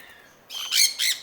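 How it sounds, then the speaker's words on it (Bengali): Two sharp, harsh squawks from colony birds ring out close by after a faint high chirp, loud and abrupt, as the birds peck at a T-shirt. "এই পাখিগুলা সালমানের টি শার্টে বিভিন্ন জায়গায় জানালা বানিয়ে দিছে"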